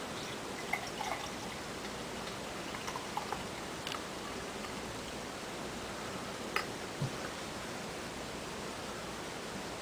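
Lion Lager poured from the bottle into a glass makes a soft, steady liquid hiss with faint scattered drips and small clinks, quiet and continuous with no voices.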